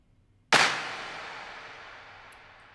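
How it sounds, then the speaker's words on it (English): A single big clap sample in Logic Pro with massive reverb: one sharp hit followed by a long, smooth, slowly fading wash of echo that carries on for over two seconds, heard alone. "Just a massive reverb."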